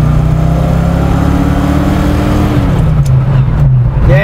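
A 1968 Ford Mustang Fastback cruising at about 65 mph on Route 66 fills a noisy cabin with a loud, steady engine drone and road roar.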